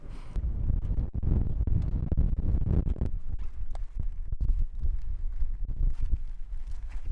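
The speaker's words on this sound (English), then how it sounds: "as expected on this ridge, the wind's picked up quite a bit" Strong wind buffeting a microphone on an exposed mountain ridge, loud low rumbling gusts that surge and drop continuously with no talk.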